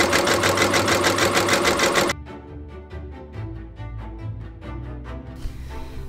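A sewing machine stitches freestanding lace for a Regency-style gown, a loud rapid steady whir of needle strokes that stops abruptly, followed by softer mechanical clicks and hum.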